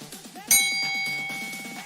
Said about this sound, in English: Can I please have a bell?